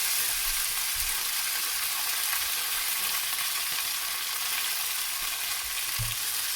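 Ada, the rice flakes for Vishu Ada Pradhaman, sautés in hot ghee over medium heat. A loud, continuous close sizzle carries occasional soft low thumps from stirring.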